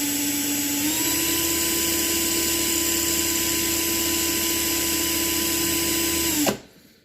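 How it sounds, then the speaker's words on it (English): A power drill runs at a steady high whine while boring through the pot metal post of a Matchbox or Hot Wheels toy car, its pitch stepping up once early on as it speeds up, then cutting off abruptly near the end. "And then after you get the drill started, you can speed it up."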